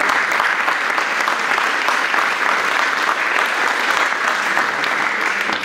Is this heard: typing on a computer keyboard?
no